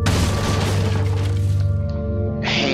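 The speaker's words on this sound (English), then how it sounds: "Hand grenade." Hand grenade exploding in Resident Evil 4, a loud deep boom that rumbles on and slowly fades over a couple of seconds, followed by a brief higher hiss.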